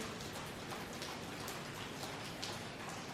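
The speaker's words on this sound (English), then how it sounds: "It's raining outside." Soft, steady rainfall with light patter of drops on surfaces, faint and even throughout with no voices.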